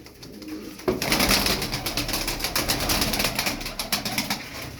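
Pigeons coo and flutter close by after a brief quiet start, a busy repeated cooing that fills the rest of the moment.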